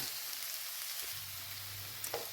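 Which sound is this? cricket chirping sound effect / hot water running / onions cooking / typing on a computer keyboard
onions cooking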